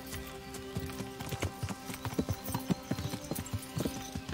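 Horse hooves clip-clopping steadily as a rider travels in the medieval game Kingdom Come: Deliverance, an even rhythmic beat on the ground heard fairly close over quiet background ambience.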